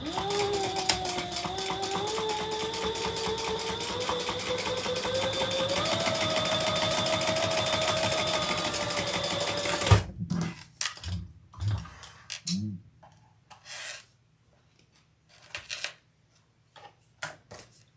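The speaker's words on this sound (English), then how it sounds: "we're going to top stitch on the lining" A sewing machine top stitching along a lining seam runs in one steady, close, fairly loud burst with its motor pitch gently rising, then stops abruptly, followed by scattered clicks, taps and fabric handling sounds.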